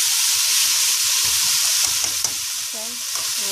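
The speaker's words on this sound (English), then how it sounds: "stir fry this a little bit." Ingredients for ham and potato soup stir-fry in a hot pan, a steady loud sizzle with scraping stir strokes throughout, no talk.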